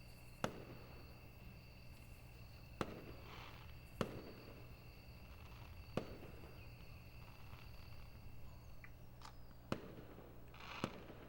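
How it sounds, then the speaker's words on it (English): Fireworks rockets burst in the video game Angels With Scaly Wings, six or so sharp, faint cracks at irregular intervals over a low, steady background hum. "Soon, I heard the sound of the first rocket making its way into the night sky, after which it exploded in a pattern of colors."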